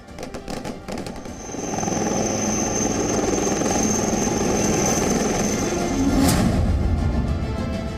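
A military combat helicopter flies over wintry Ladakh terrain, its rotor and engine forming a loud, steady droning thrum that swells in after a moment and holds constant.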